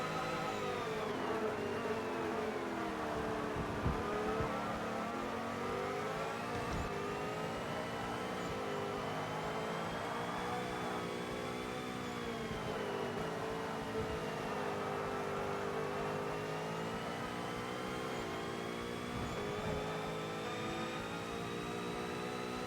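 A car engine in Forza Motorsport revs and sweeps up and down through gear changes, with a steady transmission whine riding above it, loud and continuous throughout.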